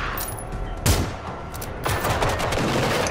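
Gunfire in a video game: a steady, dense rattle of rapid shots with a couple of louder bursts standing out, continuous and fairly loud throughout, with no speech.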